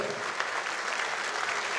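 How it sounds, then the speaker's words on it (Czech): Dense, steady applause from an audience for dancers at a dance performance, a continuous wash of many hands clapping at even loudness throughout. "Velký potlesk pro naše tanečnice"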